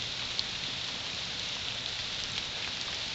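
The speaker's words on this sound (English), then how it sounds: "a little tricky when it's raining like this." Rain falls steadily in early-fall woodland, an unbroken wash of small drops striking foliage and the forest floor, with occasional slightly louder drips and no talking.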